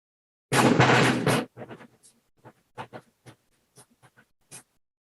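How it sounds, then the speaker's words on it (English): A loud snare-like drum roll on a Civil War-style rope tension drum lasting about a second, followed by scattered individual drum taps of varying strength spaced irregularly. "So that's the rope tension drum."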